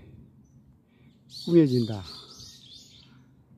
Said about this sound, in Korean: 새소리가 들리는 곳에서